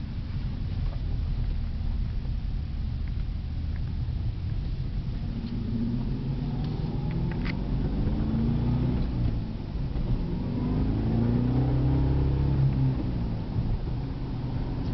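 2011 Cadillac CTS-V coupe with a manual gearbox accelerating, its low engine rumble rising and swelling through the gears, steady and fairly close, with no talk.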